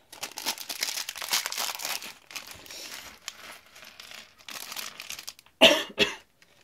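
Crinkling and rustling of a plastic bag, close by, followed by a sharp cough near the end.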